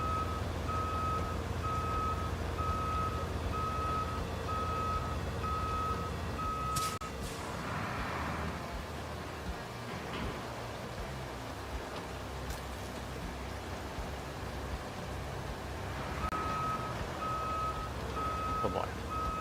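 Steady high reversing beeps from a crane truck in the Roadcraft video game, repeating in a regular pattern over a low engine rumble, pausing midway then resuming, with a rain-like wash underneath.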